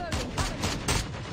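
Rapid bursts of gunfire in a shooting video game, several loud volleys in quick succession with players talking over them.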